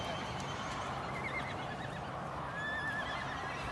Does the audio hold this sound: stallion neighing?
yes